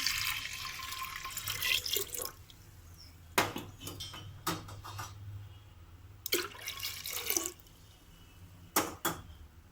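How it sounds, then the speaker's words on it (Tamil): Rice-washing water splashes and pours into a new clay pot in several short bursts, with occasional metallic clinks of kitchenware in between. "அடுத்ததாக அரிசி கழுவுன தண்ணி எடுத்து ஊற்றிக்கலாம்"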